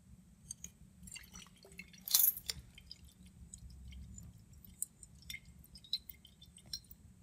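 Potassium permanganate solution dripping from a burette into store-bought hydrogen peroxide during a titration, sparse, faint, close drips and small liquid plinks over a quiet low hum.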